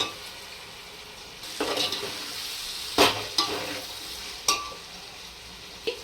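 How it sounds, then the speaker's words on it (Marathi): Carrots and mixed vegetables frying for veg biryani and stirred in a pan: a steady hiss of sizzling oil with several close, sharp scrapes and clanks of a spoon against metal, no voices. "आता तो टाकून घेते आणि आता परत हलवून घेऊया"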